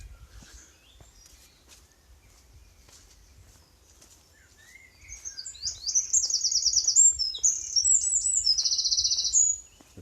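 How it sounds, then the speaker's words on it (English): Songbirds calling in a wood near Billinge Lump on a countryside walk, faint chirps at first, then a loud, fast, trilling song close by, with soft footsteps underneath. "The bird song's nice."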